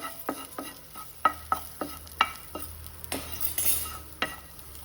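An egg fries in a pan, with a sizzle underneath as a utensil stirs and scrapes, sending sharp metallic clinks and taps at irregular intervals, close up, with no voices.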